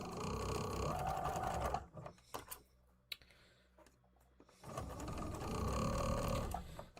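Sewing machine stitching quilt seams: a steady, rapid mechanical whir-and-clatter that runs, stops for a few seconds of scattered small clicks, then starts up again.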